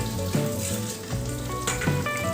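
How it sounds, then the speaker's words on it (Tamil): Mysore Pak mixture of gram flour, sugar and ghee bubbles and sizzles hard in a pan, a dense, continuous frying hiss with scraping stirs mixed in, close up and with no voices. "எண்ணெய் கொப்பளிச்சு வரும் வெளியில்"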